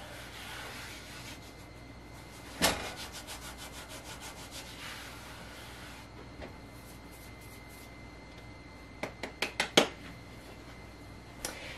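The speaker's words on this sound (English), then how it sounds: "you can just flatten this out with your hand" Biscuit dough made from two ingredients is pressed and flattened by hand on a lightly floured counter, giving soft rubbing and patting sounds with a few sharper taps and knocks near the end. Nobody speaks.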